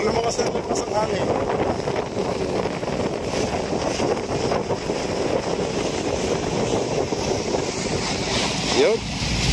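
Strong wind roaring and buffeting steadily on San Juanico Bridge toward Leyte, Philippines, with a low rumbling undertone and a brief voice near the end.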